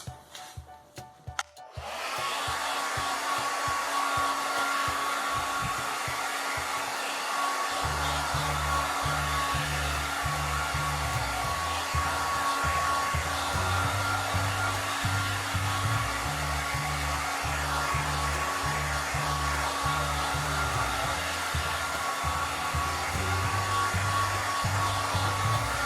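A hair dryer drying paint on a handmade document box runs continuously at close range, a loud steady whooshing hum with a low motor drone that shifts slightly in pitch after a brief start-up.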